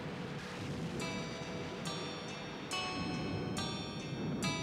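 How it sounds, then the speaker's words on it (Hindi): Steady rain hisses softly throughout, with bright ringing tones breaking in at regular intervals over the wet background. "बारिश का मौसम है"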